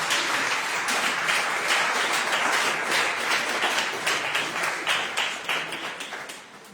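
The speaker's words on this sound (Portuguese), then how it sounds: "Você pode aplaudir o Senhor?" A church congregation claps together in a steady, rhythmic applause, loud and close, slowly thinning and fading out over the last seconds.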